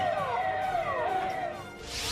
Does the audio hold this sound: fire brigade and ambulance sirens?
yes